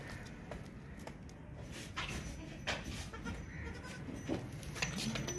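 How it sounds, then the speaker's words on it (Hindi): Goats bleat intermittently at a livestock market selling sacrificial goats, short calls rising above a steady background of crowd noise and shuffling, moderately near. "बहुत ही खूबसूरत ज़बरदस्त मोटा बकरा है।"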